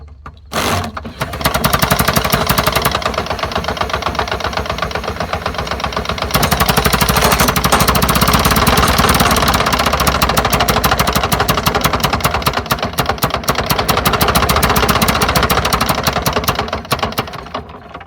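A loud, continuous engine-driven drill with a plugged carburetor roars and rattles steadily for the whole stretch, with a brief sputter at the start and the motor revving throughout.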